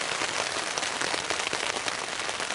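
Steady rain falls outdoors during a coastal island deer hunt in Maine, a dense, even hiss of drops pattering on surfaces close by, with no voices.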